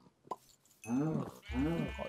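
Two loud, close sheep bleats sound in the video game Minecraft, each a wavering, nasal call, preceded by a few faint clicks.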